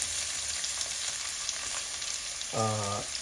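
Thinly sliced onions sautéing with whole garam masala in a pan for a Kerala-style chicken roast, a steady close frying sizzle that runs throughout, with a brief tonal hum near the end.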